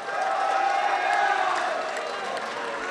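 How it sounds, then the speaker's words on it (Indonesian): Crowd applauding a candidate at a 2015 West Kutai regency head election debate, a continuous even wash of clapping and murmur at moderate level that eases slightly toward the end. "Mari kita memberikan tepuk tangan untuk calon nomor 3."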